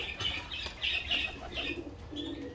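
Pigeons in a loft flap their wings in quick, close bursts, with faint cooing and soft chirps mixed in and no one talking.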